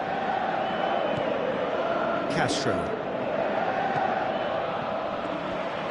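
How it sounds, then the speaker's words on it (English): Stadium crowd noise in the Winning Eleven 2018 football video game, a continuous roar rising briefly as a commentator speaks over it. "you can hear how the crowd are reacting to this too"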